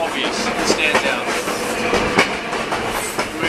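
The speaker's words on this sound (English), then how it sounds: "just being on the train here" Passenger train rolling along rails in Albania, a steady rumbling roar inside the carriage with irregular clicks and clunks from the wheels, loud and close throughout.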